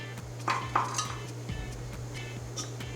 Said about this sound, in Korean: 압력솥에 등뼈 모두 넣어주세요